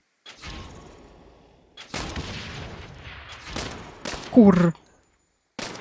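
Sharp bursts of gunfire in the video game Saints Row, several separate volleys with short gaps between them, loud and close, and a brief spoken word.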